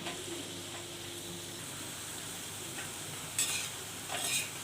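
Alu vadi (colocasia leaf fritters) frying until crispy and golden in a pan give a soft, steady sizzle with a few brief louder spatters and scrapes, with no talk.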